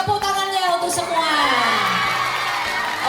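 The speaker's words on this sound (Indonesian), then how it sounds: "Tepuk tangannya untuk semua." Crowd at an annual corporate bank event, Kasa Growth 2025, cheering and whooping loudly over a few seconds, with shouts rising together near the front, and a voice talking over the noise.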